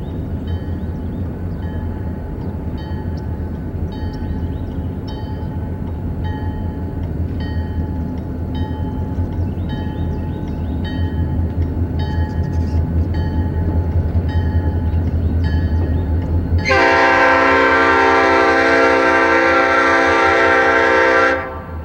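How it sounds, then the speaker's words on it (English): A Norfolk Southern freight train rolls along street track in front of a station, its rumble steady and close, then the locomotive horn blasts loudly for the last few seconds. "freight trains still travel up and down Roosevelt Street in front of the station"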